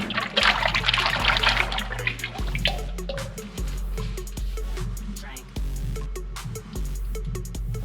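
Two-part epoxy for a garage floor coating pours fast into a container, a loud gurgling trickle at first that settles into dribbling, glugging flow with low pulsing thumps, close by.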